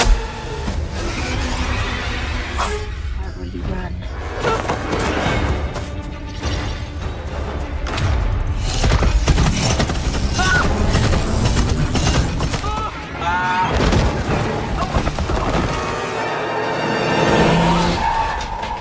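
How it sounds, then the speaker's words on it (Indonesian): In a movie scene, a car skids and hits a boy who has fallen in the road: loud tire squeals and engine noise with impacts under a dense dramatic soundtrack, filling the whole stretch. "Brandon terjatuh dan tertabrak mobil"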